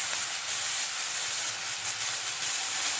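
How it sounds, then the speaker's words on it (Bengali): Oil sizzles in a hot kadai, a steady, loud, bright hiss that holds without a break, with no voices over it. "তেল দিয়ে দিচ্ছি"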